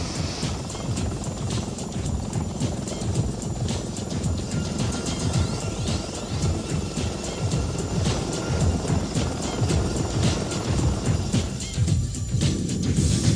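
A UH-1 Huey assault helicopter roars continuously and loudly, its rotor blades chopping in a fast steady rhythm over a dense engine whine, close and dominant throughout.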